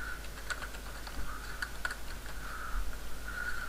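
Close, fairly quiet typing on a computer keyboard, with irregular clusters of key clicks over a low background hum and no speech.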